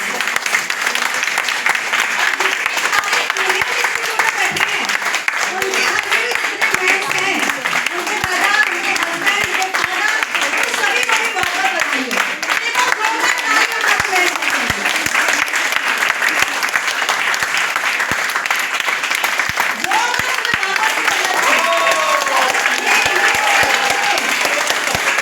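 An audience at an International Men's Day event in Lajpat Nagar applauds continuously and loudly for about twenty-five seconds, dense steady clapping with some voices mixed into the crowd noise.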